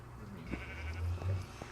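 Sheep bleat in Minecraft inside a sheep pen, a few short low bleats close by over a steady background hum.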